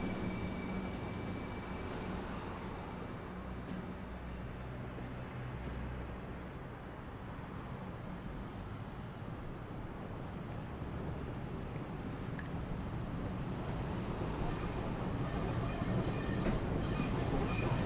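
Class 90-hauled train carriages rattling and swaying over a rough stretch of track between Birmingham, Crewe and Shap, a steady loud rumble with wheel noise throughout, swelling slightly toward the end.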